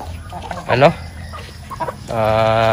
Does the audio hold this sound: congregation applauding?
no